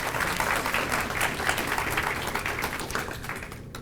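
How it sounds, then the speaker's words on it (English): Applause rolls through the room at a 2023 municipal beautification awards ceremony, a continuous, even wash of many hands clapping at moderate distance, fading slightly at the end. "Let's give our offices a round of applause."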